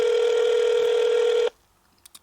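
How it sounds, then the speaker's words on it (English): A telephone ringback tone on an outgoing call holds as one steady, loud electronic note, then cuts off abruptly, leaving near silence with a couple of faint clicks. "It's still ringing, by the way."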